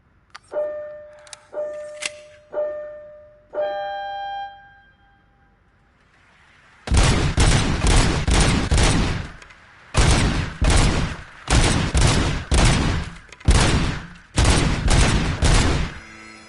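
Gunfire from the video game RoboCop: Rogue City: a few electronic beeps, then loud, close bursts of rapid automatic fire, about six volleys separated by short pauses.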